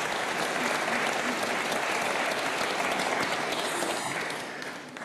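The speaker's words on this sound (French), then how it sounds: "Arrêtez d'applaudir." Dense, continuous applause from a congregation inside the church of Saint-Sulpice in Amettes during Mass, loud and even throughout before tapering slightly at the very end.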